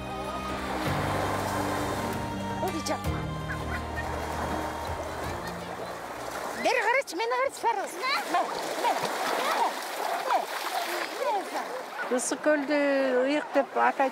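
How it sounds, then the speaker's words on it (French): Water splashing as people bathe in Issyk-Kul, the largest lake in Kyrgyzstan, with music and voices at first, then lively splashes and shouts close by. "c'est un événement de se baigner dans le plus grand lac du Kirghizistan"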